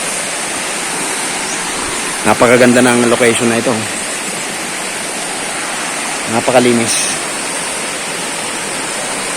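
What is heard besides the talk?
strong river current flowing near waterfall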